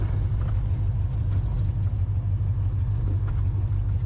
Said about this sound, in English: We're just rolling into the gas station to try and get some fuel in her before it dies on us